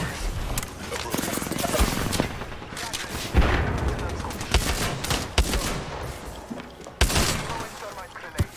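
In a shooter video game, rapid gunfire crackles almost constantly, with loud close volleys, heavy booming shots and sharp cracks overlapping one another, while game character voices call out over the fighting.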